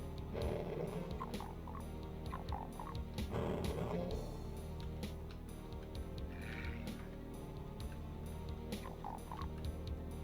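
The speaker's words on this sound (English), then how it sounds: "Frog noises." Frog croaks from the 1993 first-person shooter DOOM, repeated throughout amid dense game audio of gunfire, clanks and mechanical noises, with a brief human voice in the mix.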